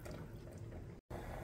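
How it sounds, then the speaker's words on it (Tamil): Water is poured into a pot of potato and peas kurma with a continuous splashing gush that cuts off briefly for a moment and then resumes. "தேவையான அளவுக்கு தண்ணி ஊற்றிக்கோங்க"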